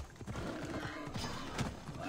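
A horse gallops in the video game Assassin's Creed Odyssey, with steady rhythmic hoofbeats close by and a faint neigh, over a continuous game background.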